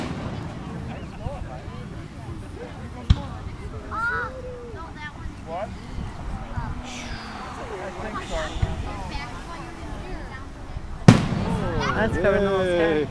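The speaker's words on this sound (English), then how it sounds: "It's our first fireworks." Fireworks bursting over an evening show at a corn and brats weekend, with sharp booms standing out above steady crowd chatter and excited voices of children and adults talking throughout.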